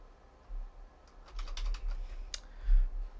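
Computer keyboard typing during a Minecraft session, a run of quick, light key clicks starting around the half-second mark, with one sharper clack near the end and no voices.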